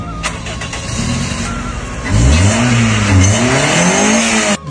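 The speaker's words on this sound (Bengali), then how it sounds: "তো চাবিটা দিয়ে আমি স্টার্ট দিচ্ছি গাড়িটা।" A car engine is started with a key: a short grinding crank, then the engine catches with a loud rising roar and settles into a deep, rumbling idle very close by.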